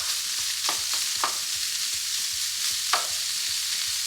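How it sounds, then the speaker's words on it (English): Smoked sausage browns in a pan with a steady, close hiss of frying. A soft rhythmic ticking runs underneath, and a few brief stirring clicks break in now and then. "I'm just going to brown my smoked sausage just a little bit"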